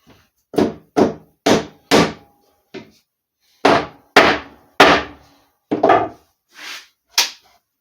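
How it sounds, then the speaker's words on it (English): A wooden garage shelf is clamped and forced down during building, producing a series of loud, close wooden thunks and knocks in uneven bursts, roughly a dozen hits separated by short silences. "gonna try clamping it"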